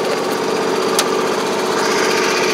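A 2007 Husqvarna YTH2454 riding lawn mower's engine runs steadily, a close, even chugging drone with a couple of faint clicks, no talking.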